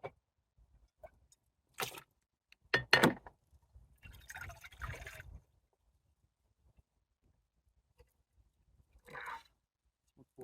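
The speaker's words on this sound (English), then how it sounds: "I'm going to wash my hands first because I have to handle the firewood and everything" Hands being washed with warm water at a quiet campsite: a few short, soft splashes and pours separated by near silence.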